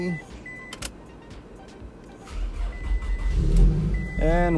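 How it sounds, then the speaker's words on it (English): A Scion tC engine cranks and catches after a fuel pump job, settling into a steady low idle; brief clicks and a whine of electronics come first, close and moderately loud. "And now it's time to turn on the car."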